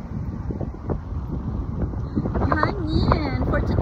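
Wind buffets the microphone outdoors in Australia as a low rumbling roar, steady with gusty swells, under someone talking close by.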